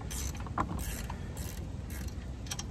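A ratcheting multi-size wrench turns in quick repeated clicking strokes at a steady working pace, heard close over a constant background hiss, with no voices.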